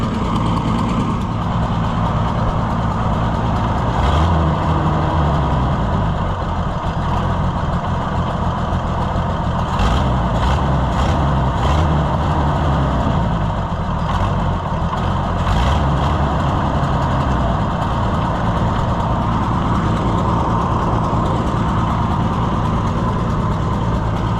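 An old International Super 77 tractor that sat for over twenty years runs steadily with a loud, continuous low engine rumble and a rough, uneven idle throughout, with no talk.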